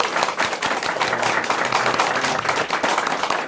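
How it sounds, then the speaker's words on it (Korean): A cinema audience at a post-screening talk for the film Punch-Drunk Love claps steadily, a dense, close roomful of applause filling the whole stretch without a break. "자, 박수 한번 칠까요?"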